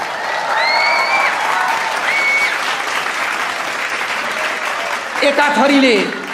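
Sustained audience applause fills a stage comedy show in Nepal, dense clapping with whistles cutting through, then a voice breaks in near the end as the clapping swells again.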